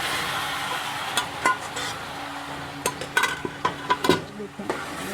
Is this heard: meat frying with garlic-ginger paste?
yes